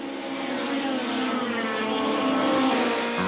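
Touring race cars, including an Audi and a Nissan, roar close by on the main straight at Aldo Scribante in 1998, a loud sustained engine drone with no voices.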